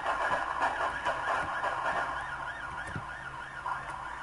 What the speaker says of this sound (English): I hear the same cop sirens.